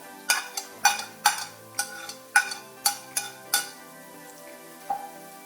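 Chopped beans and capsicum being stir-fried in a pan for Indo-Chinese veg fried rice: about seven sharp spatula clanks in an uneven rhythm over a soft sizzle, then a quieter stretch with one last scrape.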